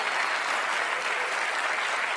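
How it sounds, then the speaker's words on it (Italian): Applause from a studio audience on an Italian morning TV show, a dense, steady wash of clapping that stays loud and even throughout without breaking. "Un grande applauso per Massimo Ranieri"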